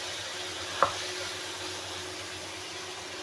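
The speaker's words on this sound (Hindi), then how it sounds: "अच्छी तरह भून लें ताकि लहसुन अदरक का भी कच्चापन सारा ख़त्म हो जाए" Garlic and ginger paste fries in a pot while cooking aloo gosht, a steady, even sizzle that runs throughout, with one brief clink from a utensil near the start.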